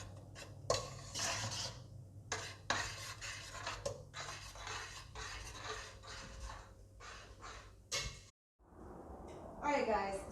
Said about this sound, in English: Now you stir that all up.